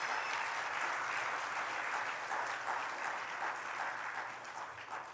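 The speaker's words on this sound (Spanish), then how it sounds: "dele fuerte el aplauso." Congregation applause during a Spanish-language evangelical church service, a steady, dense wash of clapping that holds for several seconds at moderate level before easing slightly at the end.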